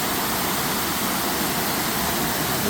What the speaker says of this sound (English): It's a beautiful waterfall area.